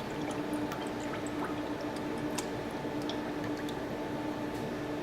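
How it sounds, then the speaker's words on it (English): Orange colorant being stirred into soap batter, a soft, steady wet squishing and scraping close by with faint drips, continuous and alone. "so now I'm adding some orange. I'll stir that up, get it scraped off the sides"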